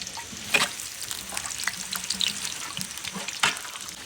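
Onions frying in a large pot of mutton curry, kandori mutton cooked in bulk, 15 kg for 100 to 150 people: a steady close sizzle with occasional sharp metallic clinks of a utensil against the pot.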